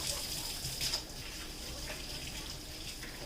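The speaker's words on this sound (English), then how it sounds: "So I'm going to wash my hands." Tap water runs steadily into a sink while hands are washed before handling meat for a pot roast, a soft continuous splash with slight shifts in flow and no talk.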